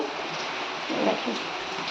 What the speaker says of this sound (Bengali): আর এদিকে দেখেন কেমন বৃষ্টি হচ্ছে